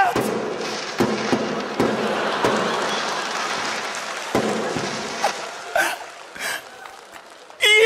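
Firework bangs pop at irregular intervals, some sharp and close, over a continuous crackling hiss, with a few voices in the background.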